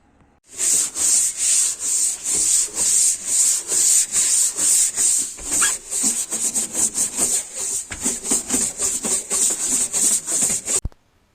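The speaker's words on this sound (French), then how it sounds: "Il ne reste plus qu'à faire un bon gros coup de propre, il y a de la poussière absolument partout." Dust is cleaned off a freshly stripped wall during a home renovation with steady, rhythmic brushing or scrubbing strokes, loud and close, continuing for about ten seconds before stopping abruptly.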